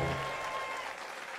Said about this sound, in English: And get some applause as well